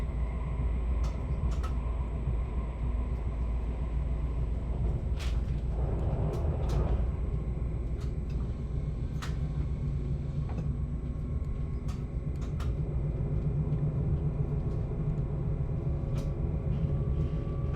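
Passenger train on the Bergen to Voss line rolling along with a steady low rumble and rail noise, a few sharp clicks and clacks over the joints, continuous and fairly close, with no talk.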